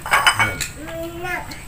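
Plates and cutlery clink and clatter briefly while fresh fruit rujak is served at a family meal, a few sharp close knocks of dishes followed by a voice speaking.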